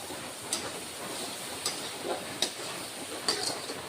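Masala with Kashmiri chili powder being sautéed in a pan for ghugni, with soft sizzling and several faint, separate spoon scrapes, close but quiet.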